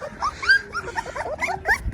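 A puppy whines and yelps in short, high, wavering cries, several in quick succession, close and fairly loud.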